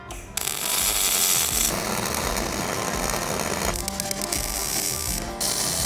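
Joints on a DIY welding cart are welded up, a loud, close, continuous crackling buzz that runs for a few seconds, changes character partway through and cuts off briefly near the end.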